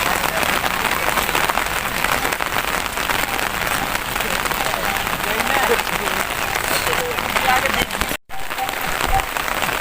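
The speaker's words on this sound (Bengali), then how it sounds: "প্রচুর বৃষ্টি হচ্ছে চারদিকে" Heavy rain pours outdoors in a dense, steady roar close to the microphone, with a brief dropout near the end and no clear talking.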